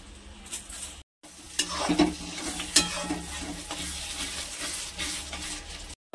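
A spoon stirs yogurt prawn curry in a hot pan, giving soft scraping and a gentle sizzle that runs steadily throughout with brief dropouts, no talking.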